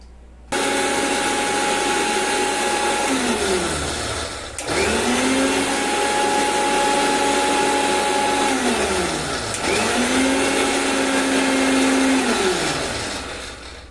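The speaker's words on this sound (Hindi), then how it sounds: "तो इसमें डाल करके और इसको हम पीस लेंगे।" An electric grinder whirs loudly as it pulverizes raw, unroasted cardamom seeds into powder, running in three steady bursts with brief pitch drops between pulses, close and continuous with no voices.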